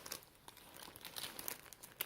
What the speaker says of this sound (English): when you unwrap it out of the wrapper, like, just barely moving this